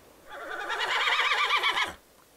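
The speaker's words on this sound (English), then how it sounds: "I think that is a horse. Horses go, neigh!" A horse neighs once, a loud, close whinny with a wavering, descending pitch lasting under two seconds, heard alone against a quiet background.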